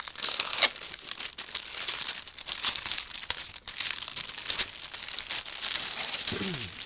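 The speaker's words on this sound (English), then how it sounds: "it's going to get crinkly noise here" Crinkly plastic packaging from a generic cross stitch kit is handled close up, giving a continuous, dense crackling rustle that rises and falls in waves for several seconds.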